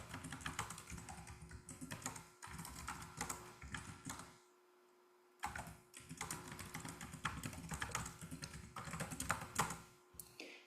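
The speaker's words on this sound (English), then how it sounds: "So you would just type up a message." Steady, fast typing on a computer keyboard, a dense run of close clicking keystrokes with one brief pause near the middle before the tapping resumes.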